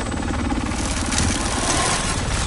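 A motorcycle engine in the video game Warzone drones loudly and steadily, a rough, buzzing mid-pitched roar that holds for the whole stretch.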